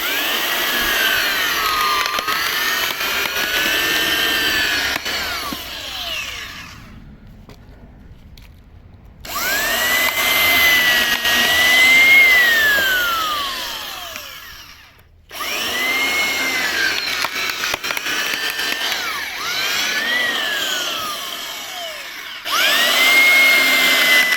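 A power drill fitted with a carrot-shaped screw wood splitter bit grinds loudly into a log, a long whining drone that rises and falls in pitch as the bit bores and splits, broken by short pauses between bursts.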